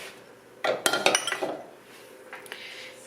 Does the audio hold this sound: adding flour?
yes